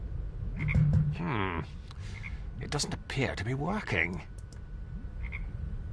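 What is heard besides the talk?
frogs croaking in the video game Her Majesty's SPIFFING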